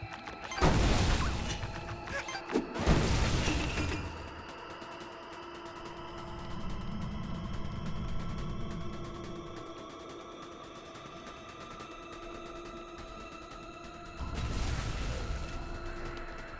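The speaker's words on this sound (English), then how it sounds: "I hear explosions." Explosions in a video game: several loud broadband blasts near the start, another burst later, with low rumbling and steady tonal game music between them.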